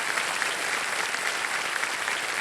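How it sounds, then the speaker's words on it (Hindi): A studio audience on a televised Hindi quiz show bursts into dense, steady applause, loud and continuous throughout with no voices over it. "एक बार जोरदार तालियां बज जाएं चलिए जी।"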